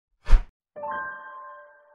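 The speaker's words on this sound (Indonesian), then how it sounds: "tekan tombol lonceng kalian" Notification bell sound effect: a soft thump followed by a clear ringing chime that sustains and fades over about a second, alone in silence.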